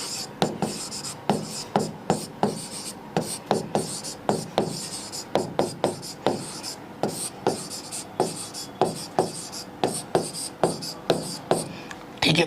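Handwriting on paper during a Hindi-medium Class 10 maths lesson, a steady run of short scratchy pen strokes repeating about once a second, close and clear, with a teacher's voice faintly present between strokes.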